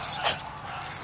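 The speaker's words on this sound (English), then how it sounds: "So, he's a very good puppy." A blind five-year-old dog gives a short, high whimpering yip, a faint squeak over a quiet background.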